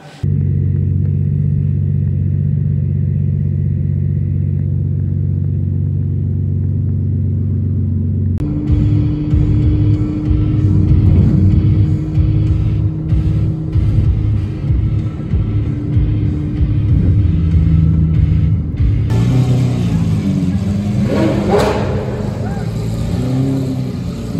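Cars at a car meet rumble steadily at close range, engines idling and occasionally revving, with a continuous loud low growl that shifts as vehicles move.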